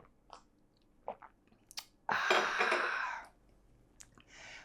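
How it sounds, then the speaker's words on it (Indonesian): Coffee being slurped and sipped close up: a few soft mouth sounds, then a loud, sustained slurp lasting about a second, followed by quieter swallowing and mouth noises, with no talking. "Kita seruput dulu kopinya."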